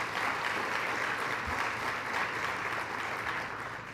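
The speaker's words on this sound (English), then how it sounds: "Another round of applause for our legislators and staff." Sustained audience applause at a legislative hearing summit honoring legislators and staff, a dense steady wash of clapping from a large crowd filling the whole stretch without a break.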